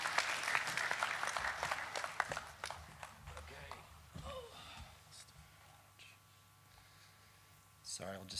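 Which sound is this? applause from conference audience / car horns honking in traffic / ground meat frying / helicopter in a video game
applause from conference audience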